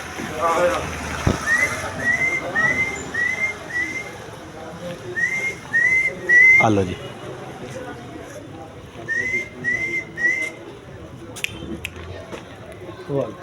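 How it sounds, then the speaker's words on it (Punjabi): A man whistles to call street dogs, giving several short rising whistles in quick bursts, pausing, then repeating them, over outdoor background noise, with a voice briefly speaking. "ਸੀਟੀ ਸੀਟੀ ਮਾਰੋ ਇੱਕ ਵਾਰ ਦੁਬਾਰਾ ਜਰਾ"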